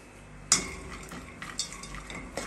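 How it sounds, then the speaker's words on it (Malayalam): Cashews and raisins fry in a pan for a sweet dessert, a low sizzle under repeated metal spoon scrapes and clinks against the pan, close and uneven; no one talks. "അണ്ടിയും മുന്തിരിയൊക്കെ ഒന്ന് വറുത്ത് കോരിയെടുക്കണം."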